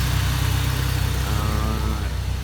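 A Honda Civic del Sol engine idles steadily and close by, a low rumbling hum with a faint rhythmic pulse, alone with no talking.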